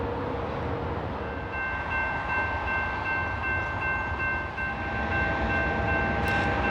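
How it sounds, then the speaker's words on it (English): A southbound manifest freight train on the Fort Worth Sub rolls past with a steady, rumbling roar and sustained tonal whines from the wheels, even and unbroken throughout. "we got stopped by another southbound manifest"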